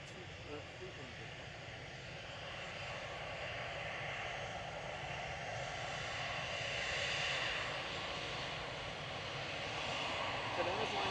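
Jet airliner taxiing at Manchester Airport, a steady distant engine rumble and whine that swells slightly across the stretch, with a voice talking faintly over it.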